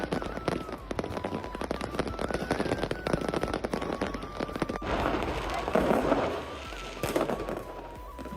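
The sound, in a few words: New Year's fireworks exploding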